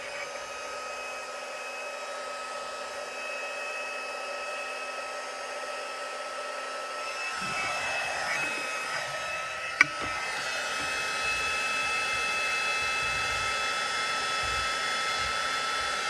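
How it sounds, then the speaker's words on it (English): An embossing heat gun for card-making switches on partway through, its steady blowing whir starting around the middle and then running continuously over a faint background hum, with a brief click near the switch-on. "Then you're going to take your heat tool."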